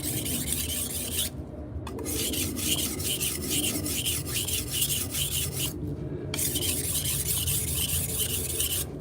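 A knife blade is stroked back and forth on a 1000 grit water stone, giving a continuous rhythmic rasping with two brief pauses between passes, close and fairly loud.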